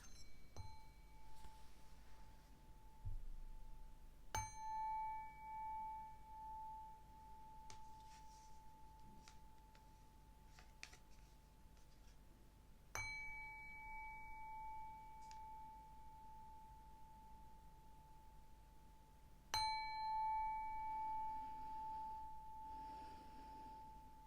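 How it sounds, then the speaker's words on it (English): A small bell rings four separate times, each strike a bright, clear ding that rings out and slowly fades, spaced several seconds apart in a quiet room. "Okay, I'm going to ring this bell a couple times."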